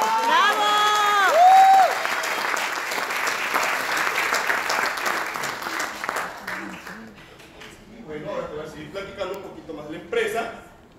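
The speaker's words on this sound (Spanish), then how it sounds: "Un aplauso para ustedes. ¡Bravo! ¡Bravo!" An audience applauds and cheers loudly at an Oriflame event, the clapping dense and sustained at first and then thinning into scattered claps and voices as a voice speaks over the crowd.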